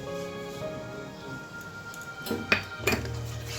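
A utensil stirs yogurt into egg korma in a pot with soft, close scraping, then clinks twice against the metal rim.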